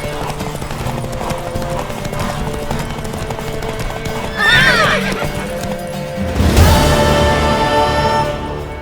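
Horse hooves clip-clop steadily over a busy backdrop in The Witcher 3 video game, then a loud whinny rises, followed by a swelling burst of noise near the end.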